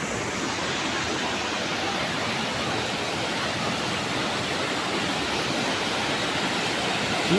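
Water pours over a small mini dam in Montalban, Rizal, a constant, even rush of flowing water heard fairly close with no voices.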